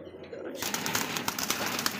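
A single pigeon coos in a bird market, soft repeated coos mixed with faint rustling, while people talk nearby.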